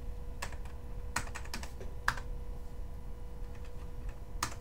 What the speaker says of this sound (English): we'll just use the arrow keys then